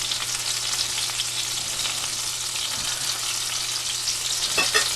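Chicken breasts frying in a pan give a steady, close sizzle throughout, with a few faint utensil scrapes near the end.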